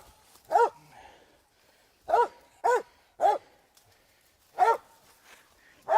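A hunting dog barks during a hog hunt in the rain, six sharp, fairly close barks in irregular bursts separated by quiet pauses.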